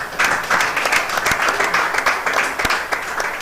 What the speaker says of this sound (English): Clap for them, clap for them.